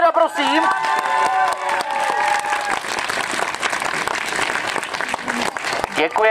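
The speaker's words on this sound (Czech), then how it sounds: "potlesk pro medvěda, prosím." Outdoor carnival crowd at a Shrovetide Masopust parade in Nová Paka, applauding and cheering steadily for a costumed bear, dense clapping with some voices and shouts mixed in throughout.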